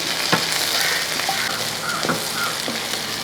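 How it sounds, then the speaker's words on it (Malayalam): Sliced capsicum and onions fry in a pan for a chicken dish, giving a loud, continuous, close sizzle. Stirring scrapes recur throughout. "ഒരു വലിയ ക്യാപ്സിക്കം ഇതേപോലെ കഷ്ണങ്ങളായിട്ട് അരിഞ്ഞു വെച്ചിരിക്കുന്നത് അതുകൂടെ അങ്ങോട്ട് ഇട്ട് കൊടുക്കുക ശേഷം എല്ലാം കൂടെ ഇളക്കി"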